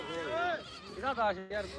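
A goat bleats several times up close at a goat market, wavering, nasal cries in quick bursts with short pauses between them.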